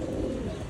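A plump domestic pigeon coos in a low, continuous murmur, close and steady, heard alone for a brief moment.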